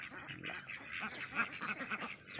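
Muscovy ducks quacking in the evening while grazing on grass, a series of repeated nasal calls close by, overlapping in a steady rhythm.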